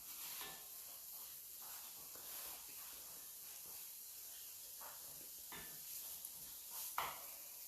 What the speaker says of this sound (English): We should stir it until the onion will be soft and almost transparent.